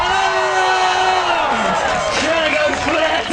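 A crowd at a dirt bike show roars and whoops for rider Danny McCaskill, loud and continuous, with yells rising out of it and an announcer's voice carrying over the top.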